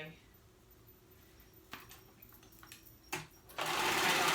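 A sewing machine starts up near the end to stitch skirt pieces together, a loud steady whir rising after some faint handling clicks and quiet talk.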